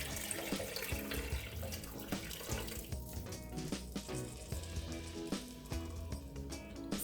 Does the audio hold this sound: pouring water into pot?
yes